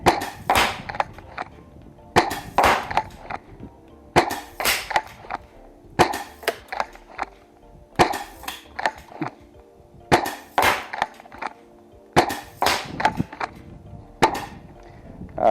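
An XYL KM9 Unicorn blaster fires shot after shot at a target: sharp, snappy cracks come in evenly spaced bursts about every two seconds, each followed by a short clatter, loud and close with quiet gaps between.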